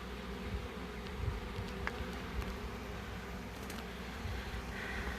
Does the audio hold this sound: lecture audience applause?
no